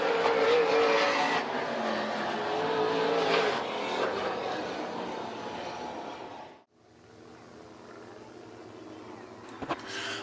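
Sprint cars roaring around a dirt oval at Crawford County Speedway during a heat race, a loud sustained engine drone that swells and fades as cars pass, dropping briefly near the end before building again.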